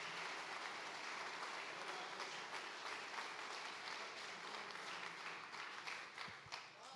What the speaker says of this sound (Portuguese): Vamos aplaudir Jesus com bastante alegria nessa noite.